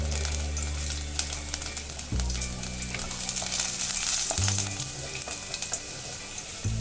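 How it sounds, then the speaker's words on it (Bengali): Chopped garlic sizzling in a little hot oil in a kadai, a steady close frying crackle with occasional stirring scrapes and no talking. "কড়া গরম হলে অল্প একটু তেল দিয়ে দেবো, এর মধ্যে রসুন কুচিটা দিয়ে দেবো আগে।"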